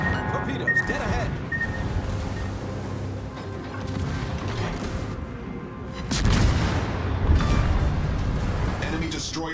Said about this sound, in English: Enemy destroyer blown up.